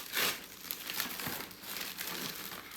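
A gift wrapper crinkles and rustles as a birthday present is opened up close, in a few quick bursts of crackling with no talk.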